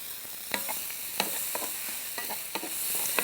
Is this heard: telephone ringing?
no